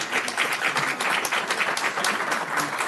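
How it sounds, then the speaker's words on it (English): Audience applause at a Manhattan Beach city council regular meeting, steady sustained clapping from many people in a meeting room, moderately loud and continuous throughout. "So if we could give them a round of applause and we'll take a picture."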